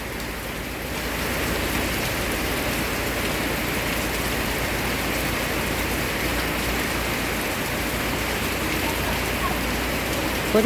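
Heavy rain pours steadily on surfaces at an open market in Pak Chong, a dense, even hiss that holds loud and unbroken throughout.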